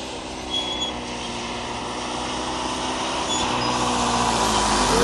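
A camper van drifts outward during ADAC driving safety training in Augsburg: a loud, continuous engine and road roar that swells slightly as it goes, with no voices.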